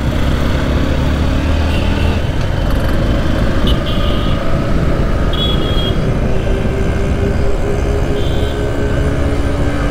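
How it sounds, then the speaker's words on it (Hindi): Dense, loud road traffic on Chowka Ghat road in Varanasi, a steady roar of engines with a few horn toots rising above the continuous rumble, no voices. "बेलगाम ट्रैफिक है।"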